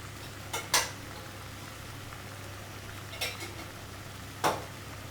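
A spoon scrapes and clinks against a pot of simmering melagu kuzhambu, a few brief stirring strokes spaced apart over a low steady bubbling hiss, close and quiet.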